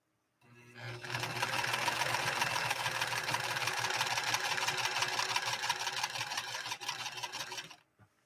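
A White Model 742 sewing machine runs steadily while stitching a zigzag pattern on fleece fabric, a close, continuous mechanical hum and rapid needle clatter lasting about seven seconds before stopping.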